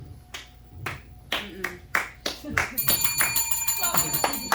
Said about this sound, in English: The rest of you don't need to clap.